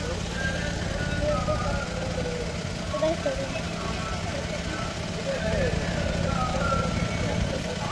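A car engine idles steadily at close range after pulling in, a low continuous hum running through the whole stretch while people talk over it.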